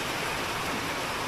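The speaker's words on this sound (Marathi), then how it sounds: "काय पाऊस पडतोय" Steady, dense rain pours down outside at a village home, a continuous even hiss with no breaks or voices.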